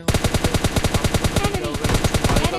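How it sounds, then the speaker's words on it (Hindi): Rapid automatic gunfire in the mobile shooter PUBG Mobile Lite, a fast regular string of close, punchy shots with a brief break midway before the burst resumes. "मेरे को फायरिंग की आवाज़ आ जाती है"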